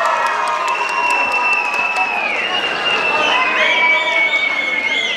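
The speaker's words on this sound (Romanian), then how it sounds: "Aplauze!" Applause and cheering from a school audience at a freshman beauty pageant, a loud continuous crowd wash with tonal music running underneath.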